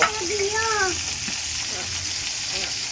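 Cumin and garlic paste sizzles in a pan in a village-style kitchen, a steady bright frying hiss that runs the whole time, with a brief voice-like warble near the start.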